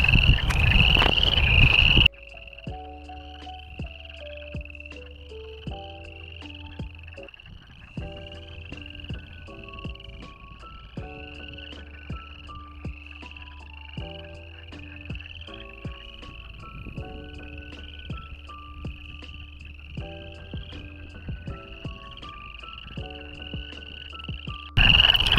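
A large chorus of frogs croaks in repeating pulsed calls over a steady high insect-like trill at a pond in Canada, continuous and fairly close, with no talking.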